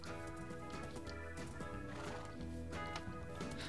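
Horses in Minecraft, heard as clip-clop movement and neighing mixed into a steady, dense layer of game sound and background music.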